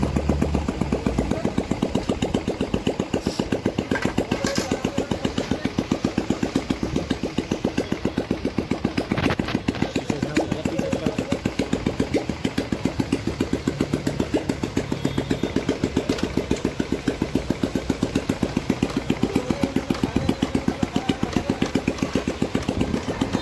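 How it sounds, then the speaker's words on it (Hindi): Royal Enfield motorcycle engine running just after starting, a steady rapid thumping idle that stays even and close for the full stretch, with no voices. "ये देखिए बाइक स्टार्ट हो गई अब"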